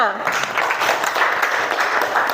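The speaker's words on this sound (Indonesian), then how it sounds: "Tepuk tangannya." Classroom applause breaks out for a student's correct answer, a steady dense patter of many hands clapping together throughout, close and fairly loud, with voices mixed in.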